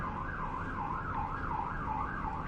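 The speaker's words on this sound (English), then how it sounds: "that siren in the background is so loud" A wailing siren rises and falls in a steady cycle, somewhat distant, over a low rumble of city traffic.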